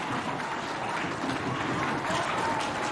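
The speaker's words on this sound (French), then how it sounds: "Applaudissements encore." Audience at a school event applauds in a continuous, even wash of clapping, with crowd noise blending in throughout.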